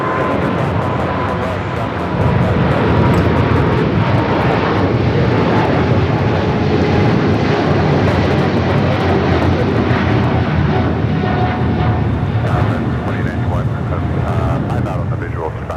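An Austrian Airlines jet taking off at LAX, a loud, sustained broadband engine roar that swells after a couple of seconds and holds steady, with radio chatter running underneath.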